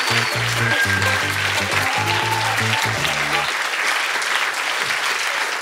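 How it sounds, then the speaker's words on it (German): Steady, dense applause from a studio audience greeting the winner of the first game on a German comedy game show, loud and sustained throughout, with a low rhythmic music sting playing underneath for the first few seconds. "damit einen großen Applaus für den Gewinner des ersten Spiels"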